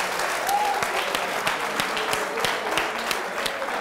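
Sustained applause from a studio audience at a televised debate on a health workers' strike, steady dense clapping with no voices over it.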